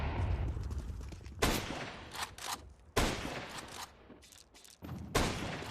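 Bursts of gunfire from a competitive esports shooter match in the LORGAR Rankings qualifier, with several sharp volleys, the loudest near 1.5, 3 and 5.2 seconds, over constant game ambience.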